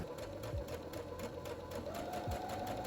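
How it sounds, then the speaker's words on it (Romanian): A sewing machine stitches a ruffle on a blouse with high thread tension, a fast steady mechanical whir with rapid regular ticking, close and even throughout, no talk. "Acum urmează să apăs pe pedală, să încep să cos"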